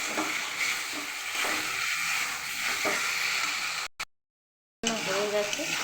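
Fried potatoes tossed into hot masala in a pan for Kashmiri dum aloo, a steady close sizzle with stirring scrapes, a brief dropout near the end, then the frying resumes.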